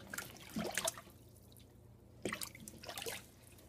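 Water soaking into and dripping off a glitter boot, a few close irregular drips and trickles in two short bursts separated by a quieter pause.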